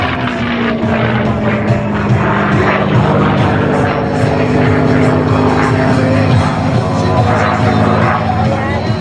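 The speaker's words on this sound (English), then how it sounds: "he will once again take the Mustang into the vertical for the Cuban 8" A P-51 Mustang warbird flies aerobatics at an air show, its piston engine droning loud and steady throughout with a rough propeller buzz, while an announcer's voice is faintly heard over the roar.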